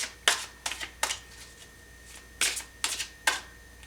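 Tarot cards are shuffled close by in short, crisp riffling bursts. The bursts come in irregular clusters separated by brief pauses, all fairly quiet, with no talking.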